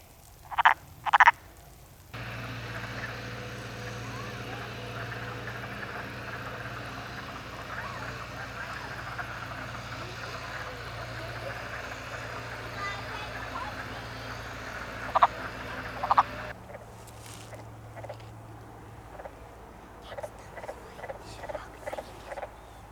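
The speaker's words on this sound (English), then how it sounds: "There's wood frogs everywhere, and there's pockets of eggs everywhere in the water here too." Wood frogs gathered in a pond full of egg masses give clucking, duck-like croaks in short clusters. A steady outdoor hum of water and wind runs beneath the calls, which sound moderately close.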